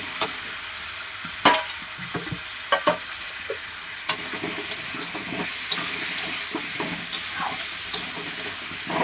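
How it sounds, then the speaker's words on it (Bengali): Potato, onion and papaya fry in a pan with a continuous sizzle, punctuated by repeated scraping stirs of a spatula at irregular intervals, close and fairly loud, with no talk. "এটা একটু ভাজা ভাজা হয়ে গেলে তারপরে এর ওপর আমি মাংসটা দেব।"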